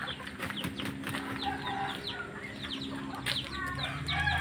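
Bangkok rooster, the Thai Kaib Thai chicken breed, kept in a village in West Java, clucks amid a busy cluster of fowl calls, with a possible crow rising briefly over steady background farm noise.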